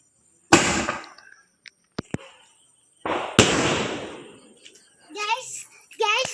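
Firecrackers set off for a Vishu celebration burst in three sharp, loud bangs, each trailing into crackle, and children's voices follow between and after them.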